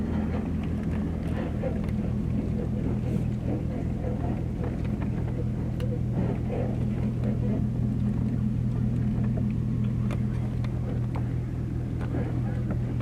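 A vehicle's engine rumbles steadily as it rolls along and pulls up on a dirt ranch road at a rural lot, a low continuous drone heard from close by for the whole stretch, with faint voices underneath.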